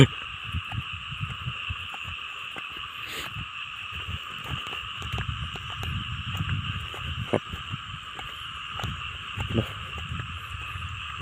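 Small frogs calling at night during heavy rain near water in the dry season, a steady chorus of repeated calls with scattered clicks, moderately near, over a constant rainy background.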